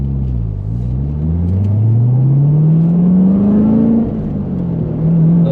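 A Chevrolet C7 Corvette Z06 engine pulls hard in second gear, its pitch climbing steadily over a deep rumble before easing off and rising again, loud and close without talk.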